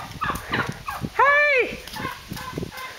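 Wild Oklahoma turkeys gobble outdoors, one clear rippling gobble rising and falling loudly near the middle, surrounded by softer clucks and yelps, with a person talking quietly around it.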